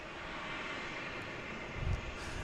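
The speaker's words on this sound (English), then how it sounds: "It's an A320. Flight 772." A JetBlue Airbus A320 on flight 772 from Cancun is heard at Boston Logan airport as a faint, distant, steady aircraft engine hum. A soft low thump near the end sits under the continuous airy drone.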